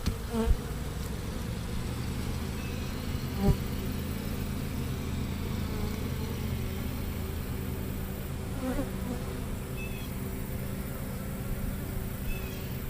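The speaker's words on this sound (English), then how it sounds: "I believe these are hygienic bees because they are chasing them." Hygienic honeybees buzz busily around an open hive, a dense, steady drone close by with individual bees whining past now and then, while a low engine-like hum runs underneath.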